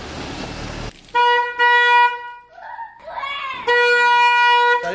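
A car horn sounding on its own: loud, sustained honks in two long blasts with a brief wavering tone between them, heard close and dominating the scene.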